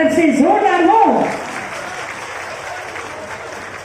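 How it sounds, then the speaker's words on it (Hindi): Loud audience applause at an award ceremony honouring tribal students, a dense burst of clapping that fades after about a second while a voice speaks over it. "तालियां आपकी तरफ से जोरदार हो"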